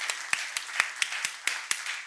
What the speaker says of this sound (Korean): 우리 하나님께 영광의 박수 올립시다.